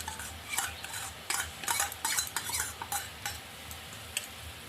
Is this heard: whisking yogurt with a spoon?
yes